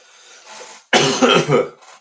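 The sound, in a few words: coughing into microphone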